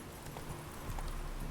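Hooves of a game horse named Roach clip-clop at a steady trot, a continuous close rhythm of soft knocks over low ambient rumble, with no talking.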